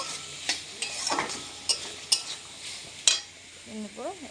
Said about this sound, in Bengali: আমি এবার মশলাটা আরেকটু ভালো করে কষিয়ে নেব